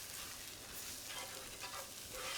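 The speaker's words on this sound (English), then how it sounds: "And stir these together." Breadcrumbs, Italian herb mix, salt and onion stirred together in a hot pan make a dense, continuous sizzle with soft shuffling scrapes, quiet and close, with no voices.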